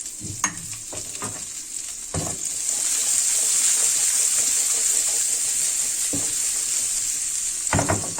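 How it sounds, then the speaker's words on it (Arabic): Sliced onions go onto a hot grill pan just used for grilled chicken breasts, sizzling in a loud, steady hiss, with scraping stirs and clatters at the start and end. "وهنا حبايبي على نفس الجريل هنزل بالبصله"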